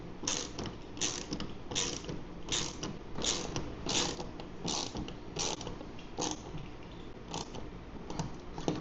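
A wrench ratchets in quick repeated clicking bursts while lock nuts are tightened on a Foxbody Mustang exterior door handle, close and fairly quiet, with no talking.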